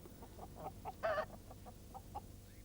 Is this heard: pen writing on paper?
no